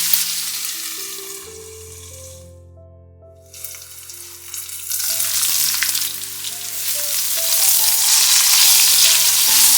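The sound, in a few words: okra pieces frying in oil in a covered pan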